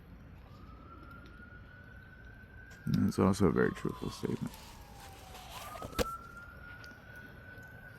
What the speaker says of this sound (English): Police sirens go on in the background.